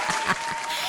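A brief burst of hand clapping at a podcast, with a few soft claps close up over a continuous applause-like hiss.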